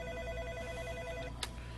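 A telephone rings briefly and faintly on the line of a radio call-in show, a short electronic ring with a sharp click near the end, no voices over it.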